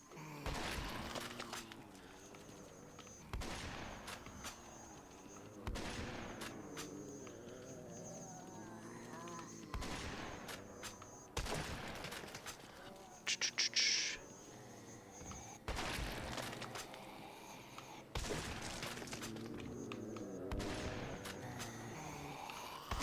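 Gunfire in the video game Conker's Bad Fur Day Live and Reloaded comes in several loud, broadband bursts over a steady hum of game background sound.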